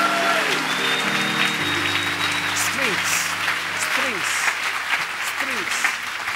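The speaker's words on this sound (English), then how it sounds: "clap your hands and receive" A church congregation claps along during a prayer service, a dense wash of hands under a sustained chanting or singing voice and music, with no break for the whole stretch.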